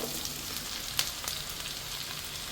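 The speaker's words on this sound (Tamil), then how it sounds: "நல்ல எண்ணெயிலேயே வணங்கணும் பாவக்காய்." Cut bitter gourd fries in sesame oil with a bright, steady sizzle and crackle, with one sharp spatter or tap partway through.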